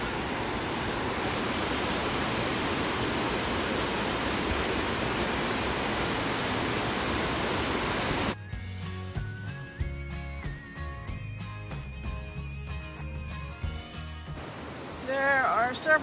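Laurel Falls, a waterfall on the Appalachian Trail, roars as a loud, steady broadband rush for about eight seconds, then cuts off abruptly and is followed by quieter outdoor sounds.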